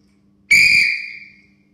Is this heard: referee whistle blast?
yes